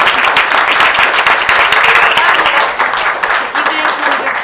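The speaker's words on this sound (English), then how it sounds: "Can we get a round of applause for these wonderful students?" Audience applause for students at a school board meeting; loud, close clapping from a room of people, dense and steady at first, thinning slightly toward the end, with a few voices underneath.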